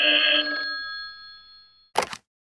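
A telephone rings once as a stage sound effect in a live radio play, a bright, loud bell that trails off, followed by a brief second burst of ringing.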